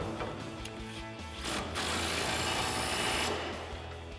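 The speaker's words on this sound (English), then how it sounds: "Now we'll tighten down our upper bolt first with our 21 millimeter wrench and 24 mil socket." A bolt on a 2015-2020 F-150's rear lowering shackle being tightened with a 21 mm wrench and 24 mm socket, dense metallic ratcheting and clicking that swells into a loud, sustained burst near the middle.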